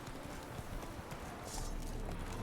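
Horse hooves clip-clop in a steady walking rhythm in The Witcher 3: Wild Hunt, muted under dense game background noise, with a brief brighter burst midway.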